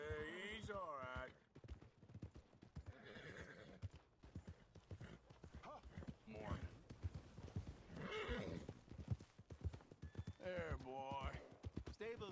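Rapid clip-clop of a horse galloping in Red Dead Redemption 2, with occasional whinnies, close and steady, while voices talk over much of it.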